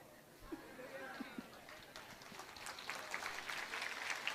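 An audience breaks into applause, starting as a few scattered claps under a speaking voice and swelling into denser, louder clapping that continues to the end.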